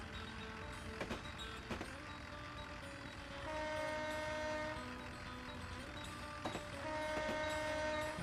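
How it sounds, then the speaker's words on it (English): A locomotive in the Railworks train simulator game rumbles steadily along, with a few sharp clanks and two sustained horn blasts sounding over the engine drone. "It's gonna be a long journey with this locomotive, eh?"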